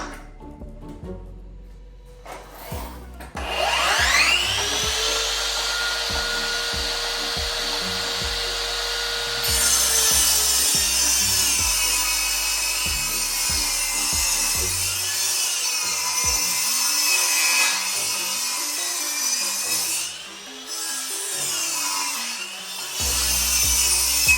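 A power saw rips through a sheet of plywood nearby with a loud, sustained whine. It holds fairly steady for about twenty seconds, with brief dips as the cut proceeds and a knocking start before it.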